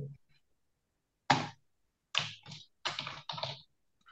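Typing HTML code on a computer keyboard: four short clusters of close, crisp keystrokes separated by quiet gaps.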